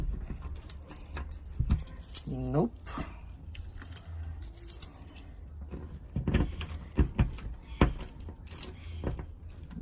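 A bunch of car keys jangles and rattles near at hand in several bursts while someone talks over and between them, with some background rumble.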